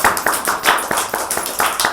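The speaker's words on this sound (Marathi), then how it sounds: "खूप सुंदर सगळ्यांसाठी एकदा टाळ्या वाजा" Children clap together in a quick, roughly even burst of claps at a classroom-style home activity, about eight sharp slaps landing close and fairly loud with faint voices underneath.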